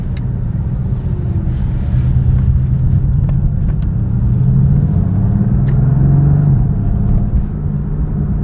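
Mercedes-AMG GT S sports car engine, a deep steady rumble heard from inside the cabin, swelling gradually as the revs rise and ease off, with faint clicks and no clear speech.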